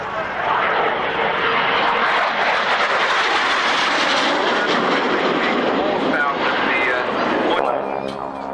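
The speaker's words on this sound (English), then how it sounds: "This is going to be a very impressive pass by the Harrier." A Harrier jet from the Wittering training unit roars past at a 1998 Army Air Corps airshow, a loud sustained broadband engine rush rising and sweeping by, ending with a shifting whine as it recedes.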